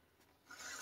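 Paper being torn by hand for card making, a short close rasping rip that builds quickly in the second half.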